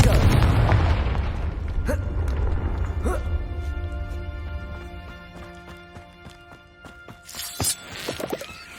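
A Confringo spell goes off in the Hogwarts Legacy video game on PS5, a loud booming blast that decays into ringing tonal echoes and scattered pops and crackles, with another sharp burst near the end.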